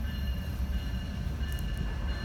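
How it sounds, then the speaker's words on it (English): A train passes a railroad crossing at night, a steady loud rumble of rolling railcars with faint high ringing tones above it and brief squeaks, constant from start to finish. "There's another train over there."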